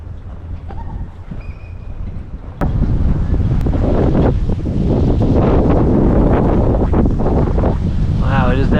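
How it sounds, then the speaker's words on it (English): Strong wind gusts roar across a pond during a fishing outing, buffeting the microphone with loud, continuous rumbling that gets noticeably heavier partway through as a front moves in. "it is definitely getting windier"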